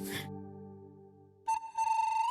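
A mobile phone notification or ringtone in a family drama scene: a sustained low electronic tone gives way to a bright, rising melodic chime, close and clear, with a brief voice at the start.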